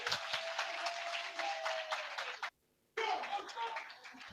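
A congregation applauds in a church gathering, a dense wash of clapping that cuts off briefly and then resumes, with a voice speaking faintly underneath.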